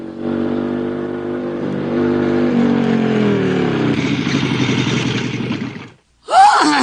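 Small delivery motorcycle engine running steadily and close, its tone rising as it revs, then cutting off abruptly near the end, followed by a brief clatter.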